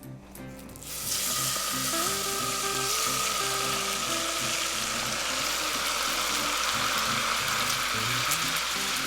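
Lemon juice hits browned butter in a hot pan for lobster, setting off a sudden loud sizzle about a second in that then holds as a steady, close, dense crackle.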